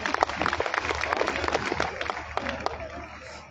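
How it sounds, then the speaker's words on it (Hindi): Loud applause from a gathered audience at an AWPL company joining meeting, a dense wash of many hands clapping steadily for the full stretch, with scattered sharp claps standing out and no talk over it. "एक बार नरसिंह सर और एसके गुप्ता सर के लिए एक बार जोरदार तालियां।"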